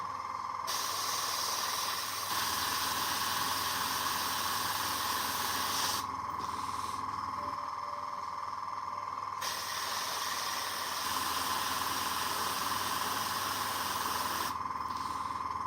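Airbrush sprays paint onto a Warhammer miniature, a steady close hiss that runs in long bursts with brief pauses between them, faint and even throughout.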